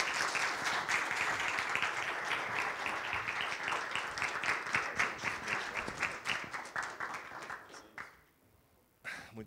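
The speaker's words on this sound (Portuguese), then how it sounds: "são palmas e salva de palmas para eles, por favor" Audience at a literary festival panel applauding, a strong burst of clapping that thins into scattered individual claps before dying out, with a few final claps.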